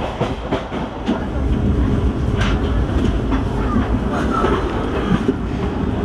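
Hampi Express train rolling along the rails, a loud continuous rumble with rhythmic clickety-clack of wheels over joints and occasional metallic clanks, heard from inside the moving train.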